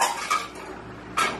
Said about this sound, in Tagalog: napahugas tuloy ako ng pinggan ng di oras